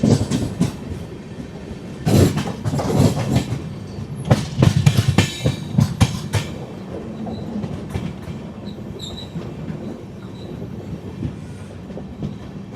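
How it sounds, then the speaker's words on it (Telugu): A mail express train rolling along a single-track line near Erraguntla Junction, heard from inside as a continuous rumble with bursts of rhythmic wheel clatter and occasional faint squeals of wheels. "ట్రైన్ ఎర్రగుంట జంక్షన్కి దాదాపు 1 గంట 5 నిమిషాలు లేట్గా అయితే వచ్చింది, బయలుదేరిపోయింది."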